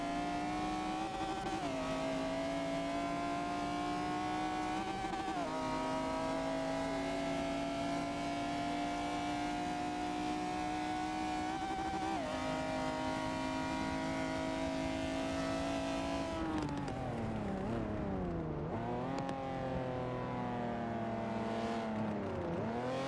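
Race cars accelerate in a Forza Motorsport 7 race, with a loud, continuous engine drone that climbs in pitch and drops back at each gear shift, then swoops up and down near the end. No one speaks.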